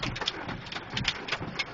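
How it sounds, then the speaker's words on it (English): Heavy rain keeps falling just after a hailstorm, a steady broadband hiss of downpour with scattered louder drops and gusts, close and continuous with no voices. "It's raining hard."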